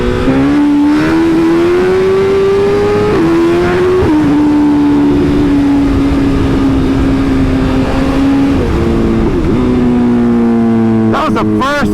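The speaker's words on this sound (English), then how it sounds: "That was the first gear wheelie." A BMW S1000RR motorcycle holds a loud, sustained engine drone during a first-gear wheelie on a street, the pitch rising and stepping through small shifts, close and dominant throughout.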